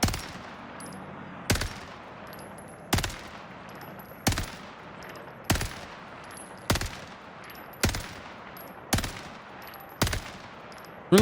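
Assault rifle firing in short, evenly spaced bursts in Call of Duty on the Caldera map, about ten sharp cracks roughly a second apart, loud and close, with no talking.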